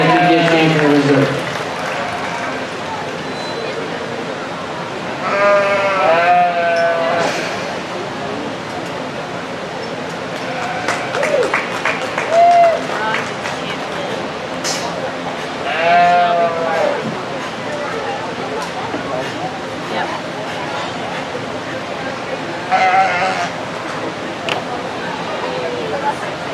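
Sheep bleat repeatedly in an arena at a county fair livestock show, several loud calls spaced across the scene amid crowd noise, scattered applause and a voice on a loudspeaker.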